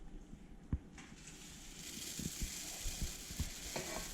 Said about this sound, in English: So now I'm going to add 6 cups of Rice Krispies.